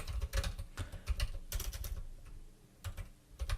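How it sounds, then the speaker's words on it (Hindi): Fingers typing on a computer keyboard, a close, brisk clatter of key presses in quick bursts with a brief lull before resuming, no voices. "टाइप करते हैं एजुकेशन"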